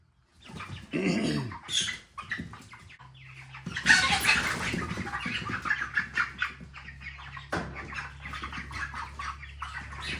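Cornish Cross meat chickens cluck and squawk nearby amid rustling and scuffling, with a low steady hum running underneath.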